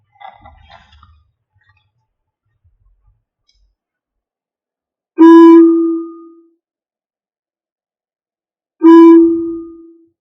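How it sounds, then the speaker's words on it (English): A monastery bell is struck twice, each time a loud, clear ringing tone with a long decaying hum, the strokes a few seconds apart in near silence. "The day's activities are regulated by a bell."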